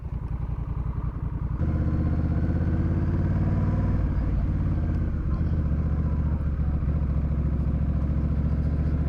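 Honda Rebel 1100 motorcycle riding on a touring trip, its engine droning steadily and loud close to the microphone, with a deep continuous rumble throughout and no talking.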